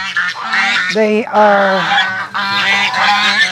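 Several geese honk loudly and close by, their nasal calls overlapping in a noisy chorus, with a brief voice mixed in.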